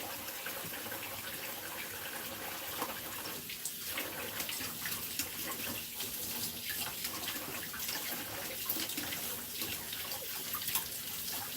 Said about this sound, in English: Just want to rinse everything off a little bit.